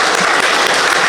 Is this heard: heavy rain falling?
no